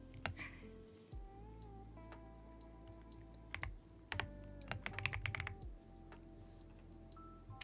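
Thocky keystrokes on a Marshmallow mechanical keyboard, close and crisp, coming in irregular bursts of taps with short pauses between them over a faint steady background hum.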